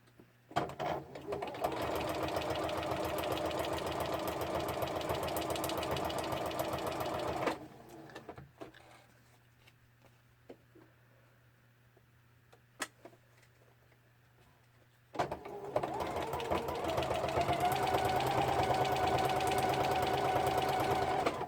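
A sewing machine runs a lengthened straight stitch through a handmade tea-themed journal. Two long bursts of steady mechanical whirring sit close and loud, separated by a quiet pause holding a faint hum and a few small clicks.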